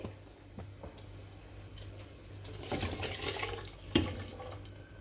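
Soaked Gobindobhog rice tipped into a pot of boiling water, a quiet splash and watery swirl that builds briefly, with a few light knocks and clinks of utensils nearby and no talking.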